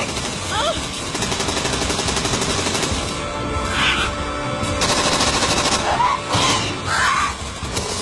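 Rapid bursts of gunfire crackle amid a noisy, chaotic action-movie scene in Hindi dubbing, with shouting voices and bright sharp cracks rising over a dense background roar.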